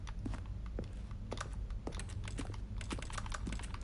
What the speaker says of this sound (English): I'm pretty sure you can hear the keyboard typing in game.